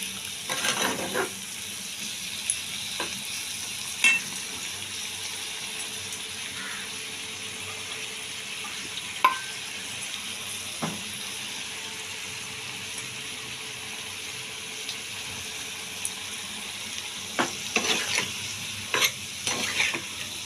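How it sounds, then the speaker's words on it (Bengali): A spice paste (masala) with green chillies is fried in a pan for a pea and cauliflower dish, giving a soft, continuous sizzle with occasional clinking, scraping stirs, close but fairly quiet, with no speech. "মশলাটা কষে আমি দেখাচ্ছি"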